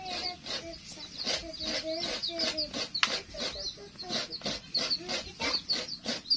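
Chickens cluck and squawk repeatedly in quick, irregular bursts nearby, a busy stream of fowl calls with faint voices in the background.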